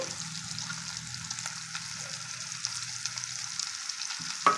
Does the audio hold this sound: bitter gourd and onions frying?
yes